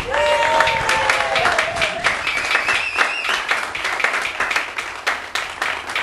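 A crowd at a vigil applauds the event host, sustained dense clapping close up, with a voice briefly speaking over it at the start.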